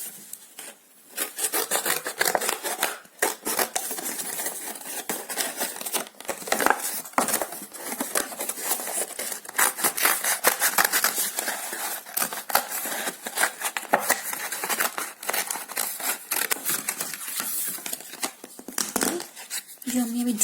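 Scissors cut through folded paper for a children's art craft, with a dense run of close, rasping snips and rubbing that continues throughout the clip.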